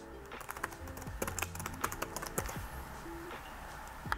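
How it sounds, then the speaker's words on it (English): Fingers tap out a name for a two-factor security key on a computer keyboard: a steady run of quick, close plastic key clicks with uneven spacing and a few sharper strokes, no voice. "type in a memorable name."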